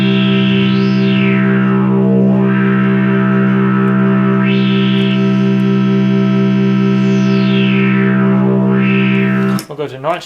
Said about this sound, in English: That distortion's going on that.